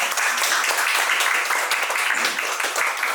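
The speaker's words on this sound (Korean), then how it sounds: "진심으로 다시 한 번만 더 큰 박수를 부탁드리겠습니다" A seminar audience gives a sustained round of applause at a Korean academic seminar on preventing serious accidents in crane rigging work, dense and even clapping throughout with no talk over it.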